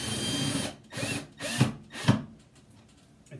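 A power drill whirs in four short bursts driving a screw while installing an over-the-range microwave, each slowing and straining as the screw tightens, with brief pauses in between.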